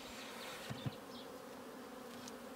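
Bees fill a freshly made nuc hive, a dense, steady buzzing close up with a few brief knocks early on.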